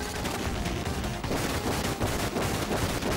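Shotgun fist weapon blasting in Contra Hard Corps, dense and loud repeated bursts layered over busy game noise with no gaps.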